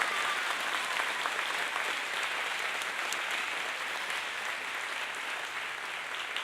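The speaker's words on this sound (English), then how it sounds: "So we want to just give them a big round of applause and thank them for supporting us." Steady, dense applause from an audience at a partners-in-education celebration event, a continuous wash of clapping at even loudness throughout with no pauses or voices over it.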